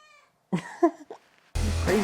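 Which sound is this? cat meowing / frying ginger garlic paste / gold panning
cat meowing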